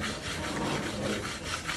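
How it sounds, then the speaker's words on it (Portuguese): A Japanese Yanagiba sushi knife drawn across a King 3000 whetstone, a close, steady abrasive scraping rasp with light rhythmic strokes. "Usar a pedra 3000, fazer um acabamento bem bacana e dar uma refinada no fio também."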